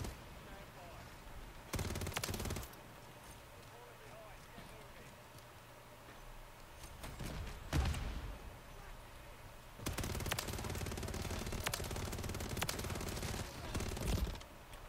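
WSP Swarm submachine gun bursts in Call of Duty: Modern Warfare III: rapid, loud automatic fire in several bursts, one short, another long and sustained, separated by quieter in-game ambience and footsteps.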